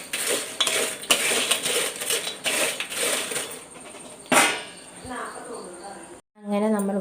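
Banana slices dropping into hot oil for frying chips, with repeated metallic clinks and scraping of a utensil against the pan in uneven bursts, a sharp sizzle-like hiss, and a voice talking near the end.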